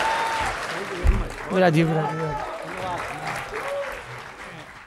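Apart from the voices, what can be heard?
audience applause for a poet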